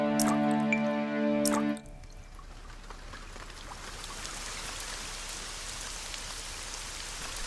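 Steady cartoon rain pours down and patters on surfaces, taking over once a short music cue cuts off and then continuing evenly to the end.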